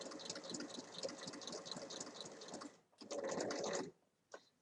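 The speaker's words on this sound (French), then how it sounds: "je démarre ma couture en faisant un point d'arrêt." Domestic sewing machine stitching a small fabric pouch, running in a steady rapid whirr, pausing briefly, then a short backstitch burst and a final quick stitch, close and quiet.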